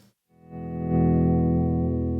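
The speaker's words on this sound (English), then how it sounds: "I'm doing a volume swell right now" Electric guitar volume swell through a travel pedalboard chain with compressor, tuner, buffer, volume pedal and overdrive, a sustained chord fading in smoothly from silence and holding loud and steady, shimmering with effects.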